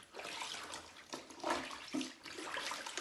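Fresh water sloshes and trickles as a cashmere garment is rinsed in a small basin, soft and close, with uneven splashes and gurgles.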